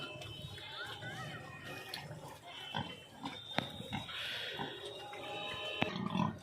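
Pigs grunting and snorting close by, mixed with people talking and steady outdoor background noise.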